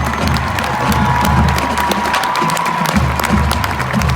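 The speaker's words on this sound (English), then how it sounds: "another great round of applause for all our bands who have performed for us today." A stadium audience at a high school marching band invitational applauds and cheers steadily, with dense clapping and crowd shouts that swell and dip over a few seconds.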